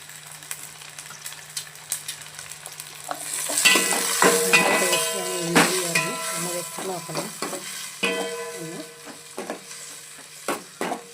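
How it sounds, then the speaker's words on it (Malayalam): Tomato, onion, green chilli and curry leaves sautéing in a pan, a soft sizzle under repeated scraping and stirring strokes, growing busier midway, with clinks of the spoon against the pan. "നല്ല വതങ്ങി കിട്ടട്ടെ"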